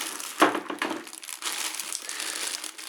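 Crinkling plastic bag covering a Black+Decker BL188 drill, close by, with a sharp rustle near the start followed by continuous crackly handling noise.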